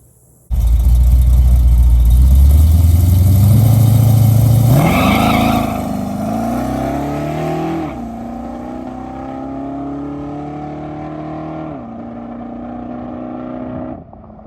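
A drag car built up from a show car makes a pass at the track, its engine roaring loud and near from launch, then shifting up through the gears with rising revs before cutting off; no one talks.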